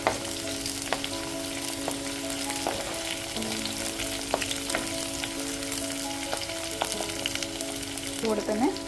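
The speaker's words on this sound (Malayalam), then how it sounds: "തീ ചെറുതായിട്ടൊന്ന് കുറച്ച് വെച്ച് വഴറ്റിയെടുക്കാം." Onions sizzle steadily in a hot pan, with occasional clinks and scrapes of stirring over the continuous frying hiss.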